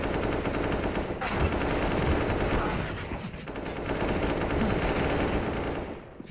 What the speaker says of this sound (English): It's a lot of AKs.